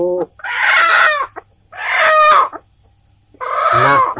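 Free-range native village chickens being raised for market give three loud, close bursts of squawking and clucking, each about a second long and separated by short silences.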